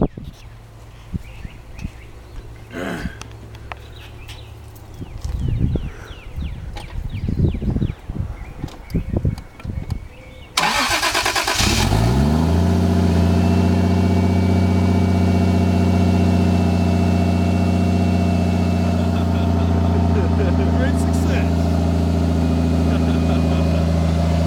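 A car engine cranks and catches after some rustling and handling sounds, then settles into a loud, steady close-up idle that runs unbroken to the end.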